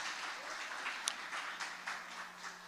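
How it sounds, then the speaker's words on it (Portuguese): Congregation applause at a Portuguese-language church service, a steady, fairly soft patter of many hands clapping throughout, with a faint low hum underneath. "Quem pode aplaudir o Senhor Jesus por esta revelação?"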